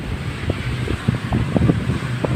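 A strong wind roars steadily and close outdoors after a typhoon, a continuous low rushing with faint thumps and no clear voices.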